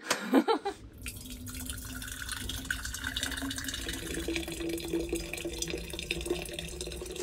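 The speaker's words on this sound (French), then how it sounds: "Donc on va remplir cette thermo et je te montre." Hot water runs steadily from a dispenser into a thermos, a continuous close pouring wash that starts after a brief clatter and stays even throughout.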